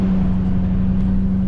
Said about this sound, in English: This truck has so much power.